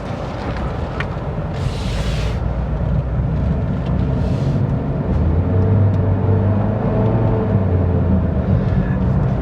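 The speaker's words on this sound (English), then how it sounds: "setting off in the Corolla hatchback SE. So this is the 2-liter with the direct shift CVT." A 2020 Toyota Corolla hatchback SE with the 2-liter engine and direct shift CVT pulls away, a steady engine drone and road rumble building gradually from inside the cabin, with brief whooshes early on.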